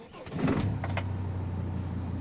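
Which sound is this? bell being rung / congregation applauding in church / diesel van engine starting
diesel van engine starting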